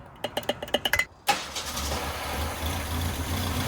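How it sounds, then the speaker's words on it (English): A Ford Pinto engine running on Everclear cranks with a rapid series of starter whirs, then catches and settles into a steady, loud idle close by. "So hopefully this engine doesn't stop until we're completely out of Everclear."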